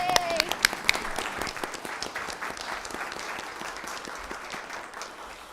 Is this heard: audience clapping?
yes